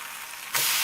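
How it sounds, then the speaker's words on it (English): Maitake mushroom steak in a hot pan, a soft hiss that swells into a loud, bright, close sizzle in under a second. "You want it to sizzle up."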